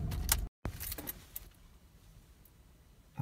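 Keys jangle loudly near the ignition of a 2013 Mitsubishi NW Pajero as its engine is switched off, a brief sharp rattle followed by quieter cabin sounds and a soft thump at the end.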